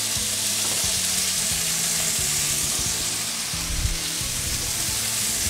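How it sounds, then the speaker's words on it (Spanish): Garlic frying in hot oil in a pan, a continuous close crackling sizzle with steady hiss and small pops throughout, alone without talk. "Vamos a ver que se caliente el aceite, que el ajo suelte todo su sabor"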